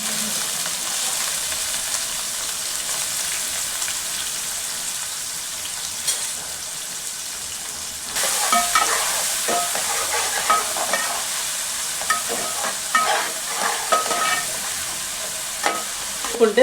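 Onion pieces sizzle in hot oil for a curry with brinjal, a constant hissing fry that grows busier partway through as a spoon stirs and scrapes them around the pan.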